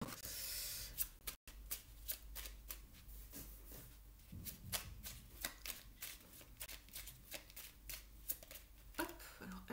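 Oracle cards being shuffled by hand during a Gemini reading: a run of crisp, rapid riffling and flicking, with a steady rhythm of card slaps up close, quiet overall and no speech.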